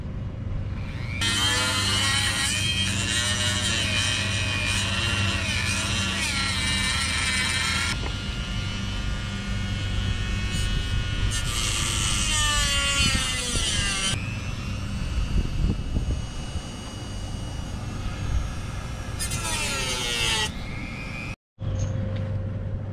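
Dremel rotary tool cutting through a KTM 500 EXC motorcycle's rear fender, a loud high-pitched grinding whine running nearly the whole time, rising and falling as the cut bites, with brief pauses and no speech.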